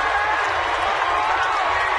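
Baseball stadium crowd of nearly 28,000 applauding and cheering, a dense distant roar of clapping and voices that holds steady throughout.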